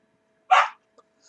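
A single sharp dog bark rings out close and loud, followed by a tiny faint yip, with near silence all around.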